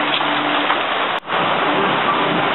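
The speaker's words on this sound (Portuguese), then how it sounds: "Olha a chuva. Tá chovendo, graças a Deus." Heavy rain pours down in a steady, dense roar, loud and close, with one brief dip in the middle; no voices are heard.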